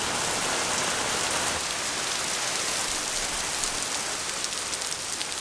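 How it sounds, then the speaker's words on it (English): Rain falls steadily outside on a dreary day, a dense even hiss of drops on surfaces with no pauses and no voices. "it is such a rainy, dreary day out there"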